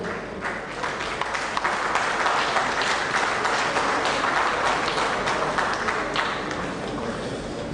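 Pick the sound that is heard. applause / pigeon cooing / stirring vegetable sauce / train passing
applause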